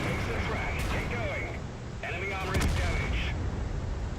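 Tank cannon shots in World of Tanks gameplay from a Conqueror heavy tank, several booming blasts mixed with game sounds, partly under someone talking.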